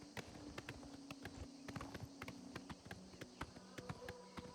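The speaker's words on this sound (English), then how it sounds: "Look at this splendid stroll through nature we get to take on my bay horse." A bay horse walks through countryside in the video game Oblivion Remastered, its hooves giving a steady clip-clop of crisp, evenly spaced taps, close and clear over a quiet nature ambience.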